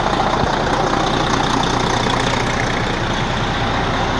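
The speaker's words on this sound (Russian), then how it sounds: "Первый запуск произошел. Мотор а работает. Только завел." Detroit diesel engine newly swapped into a truck, idling steadily just after its first start, a loud even low rumble with a constant knocking pulse throughout and no voices.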